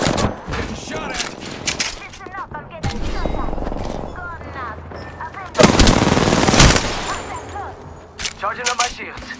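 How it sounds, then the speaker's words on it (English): Gunfire in the Apex Legends video game, loud rapid automatic bursts and single cracks that come in repeated volleys, with a heavy sustained barrage in the middle. Someone talks briefly between the shots. "Getting shot at!"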